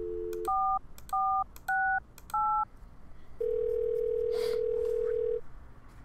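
Telephone keypad tones in the Thimbleweed Park video game: four distinct dialing beeps in even succession, followed by a sustained ringing or dial tone, clear and prominent over faint background hum.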